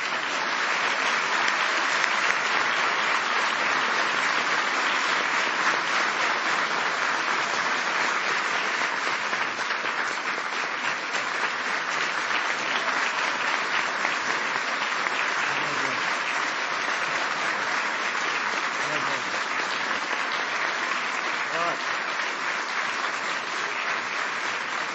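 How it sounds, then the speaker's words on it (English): Loud, sustained applause from a large audience fills the whole stretch, a dense steady roar of clapping that never lets up. "Please give them one last big round of applause."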